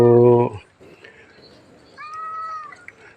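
Cats at a temple in Lampang, Thailand meow during a food donation, one loud close meow at the start followed by a fainter, drawn-out meow a moment later over quiet background.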